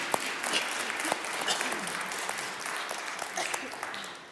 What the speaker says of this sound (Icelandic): ekki að láta eftir okkur að klappa fyrir kórnum okkar